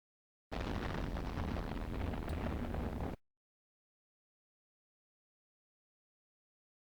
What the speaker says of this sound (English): So there you have it, the bomb hit.